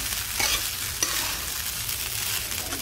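Sabudana khichdi stirred in a frying pan, made without potato: a steady low sizzle of frying with soft scraping strokes of the spoon at about 0.4 and 1 seconds, close and continuous, with no talking.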